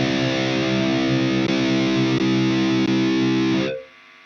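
An electric guitar plays through a boost setting in a Mooer GE200 distortion and overdrive unit, holding one loud, saturated chord that sustains for several seconds before being cut off.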